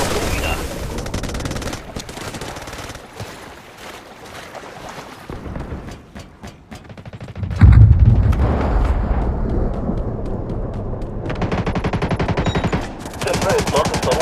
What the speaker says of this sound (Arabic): تم إطلاق الصاروخ الموجه.